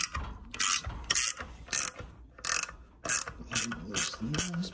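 A hand ratchet loosening a fitting, loud close bursts of rapid clicking repeated in short strokes with brief pauses between.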